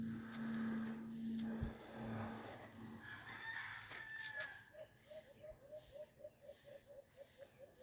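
Chickens clucking in a yard with a rooster crowing, a long crow early on followed by a steady rhythmic series of short clucks, moderately near and unaccompanied by talk.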